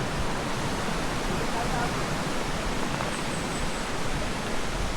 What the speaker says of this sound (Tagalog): Dito Mapo Falls, sir. Yun yung Mother Falls.